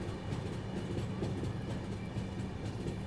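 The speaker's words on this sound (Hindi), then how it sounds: "मकराना जंक्शन स्टेशन फिलहाल अपनी ट्रेन पहुँच रही है।" Marudhar Express passenger train creeping slowly on rails toward Makrana Junction, a steady low rumble of the carriages with faint rhythmic clacking, close and continuous with no talking.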